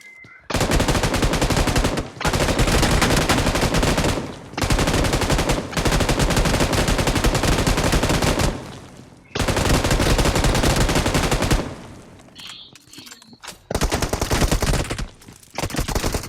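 Rapid machine-gun bursts from BGMI gameplay, several long loud sustained volleys separated by brief pauses, ending with shorter choppy bursts; no talking.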